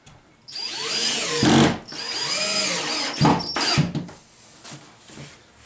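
A cordless power drill drives screws into a wooden barn door strip, with two long whirring bursts followed by shorter stop-start pulses, close and loud, with no talking.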